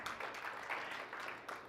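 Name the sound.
audience applause at conference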